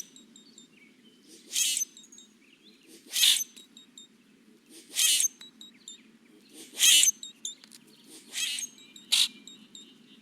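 Recorded blackbird calls, a guttural squeak with whistles, repeated six times at roughly two-second intervals, each a short bright burst over a low steady background hum.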